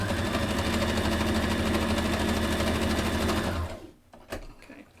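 A sewing machine stitches fabric with pins in it, running at a loud, steady, fast whir for several seconds before it stops abruptly, leaving a few faint clicks and handling noises.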